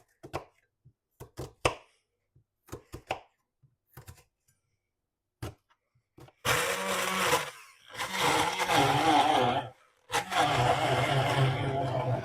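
Blender chopping onions for meatballs, starting with several short separate pulses and then running in two loud sustained bursts with a brief pause between them.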